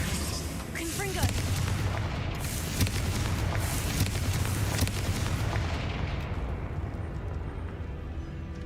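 A Confringo fire spell blasts in the video game Hogwarts Legacy: a loud, rumbling, booming burst that sustains for several seconds and then fades into a quieter tail.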